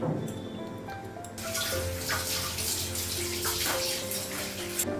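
Water pours steadily into a pot of dal on the stove, a continuous splashing rush that starts after a quieter moment and runs loud and close.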